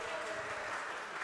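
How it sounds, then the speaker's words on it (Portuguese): Applause fills a legislative chamber during an ordinary session of a state assembly, a steady, fairly soft wash of clapping that holds evenly for a second with a faint voice underneath. "uma salva de palmas para todos os envolvidos"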